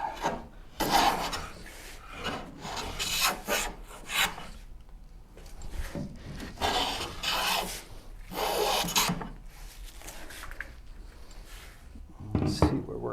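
A hand tool shaves wood on a Shaker cabinet in repeated rasping strokes, each a few seconds of close scraping separated by short pauses, with a faint voice in the background.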